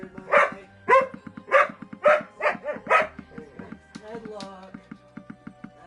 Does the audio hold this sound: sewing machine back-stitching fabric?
no